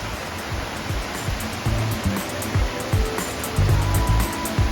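Waterfall at Kanheri Caves pouring down in a steady, dense rush of water, close and continuous with low rumbling surges, with crowd sounds faintly underneath.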